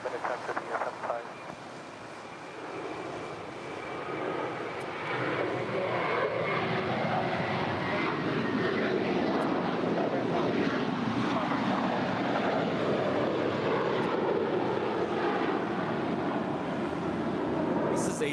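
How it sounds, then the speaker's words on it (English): A six-year-old Airbus A321 departing LAX for Orlando roars down the runway, the engine noise swelling into a broad, sustained rush that stays loud and steady, with wind buffeting the microphone. "A 6-year-old Airbus A321 departing to Orlando."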